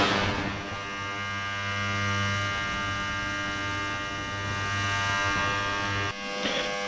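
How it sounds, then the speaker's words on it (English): An ultrasonic cleaner runs during spring maintenance of a Gitane Testi Grand Prix moped, giving a steady, close electric hum with a buzzy edge that holds constant before a brief dip near the end. "I'm sorry for the background noise of the ultrasonic cleaner"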